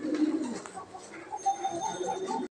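A large single female Black Danish pigeon coos in a loft among other pigeons, low repeated murmuring coos fairly close and steady throughout, with no talking.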